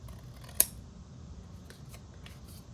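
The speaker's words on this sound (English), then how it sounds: "So I just put my scissors up here, do a little angle, and cut that off." Scissors make a single sharp snip as they angle across a paper corner, close and crisp against a quiet room background.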